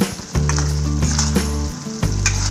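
Tomato and egg masala sizzling loudly in a pan as it cooks down, a continuous close frying crackle with occasional stirring scrapes and no talking.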